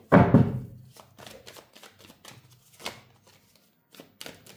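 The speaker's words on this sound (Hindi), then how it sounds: "मैं इसके लिए भी चलो कार्ड्स निकाल ले लेती हूँ।" Tarot cards shuffled and drawn by hand, a loud riffle up front followed by a string of soft, quick card flicks and taps close by, with no talking.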